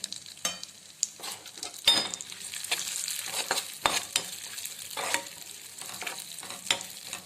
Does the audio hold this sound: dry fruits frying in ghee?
yes